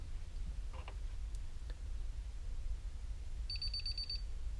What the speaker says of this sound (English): when I open it up, it just does the quick 6 beeps